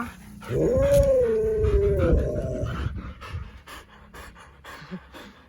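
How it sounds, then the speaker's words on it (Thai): A Siberian husky pants heavily and rapidly nearby, opening with a drawn-out whining howl before settling into fast, breathy panting. "หอบอะไรขนาดนี้"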